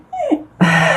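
A dog gives a close, loud whimper: a short falling whine followed by a longer, higher plaintive whine, heard alone with no talking.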